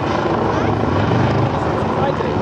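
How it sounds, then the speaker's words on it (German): A rescue helicopter passes over the Kiel Canal. Its rotor and engine roar is loud, dense and continuous, and a voice may be faintly present underneath. "Der Hubschrauber will hier lang."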